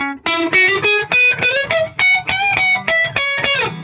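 Guitar run through a crunch distortion effect, a moderate overdrive giving a gritty, warm tone; a quick sequence of about a dozen distinct plucked notes and chords, loud and close, with no voices.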